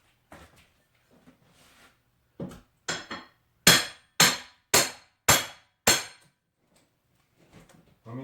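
A hammer strikes trailer trim during a tiny trailer remodel: six sharp, ringing metallic blows spaced about half a second apart, loud and close, bracketed by quieter clicks and handling noise.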